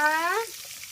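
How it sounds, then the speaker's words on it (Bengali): Snakehead (shol) fish frying in hot oil. A loud, close sizzle opens the clip with a brief whistling tone, then fades to a quieter hiss. "এবার যে মাছ ভাজা হচ্ছে"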